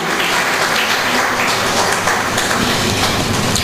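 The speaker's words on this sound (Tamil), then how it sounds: "அவருக்கு ஒரு மிகப்பெரிய கைத்தட்டலை கொடுத்து மகிழலாம்" A large audience at a traders' association workshop in Madurai gives the chairman loud, sustained applause, a thick, even roar of clapping like heavy rain, close and continuous throughout.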